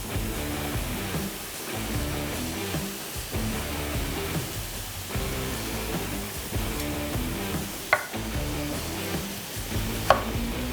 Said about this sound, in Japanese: さあトマトも輪切りに切っていきましょう